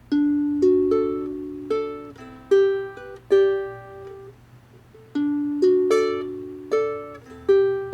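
Ukulele plucking Epona's Song from The Legend of Zelda, a slow repeated two-measure melody of clear ringing notes, played alone and close.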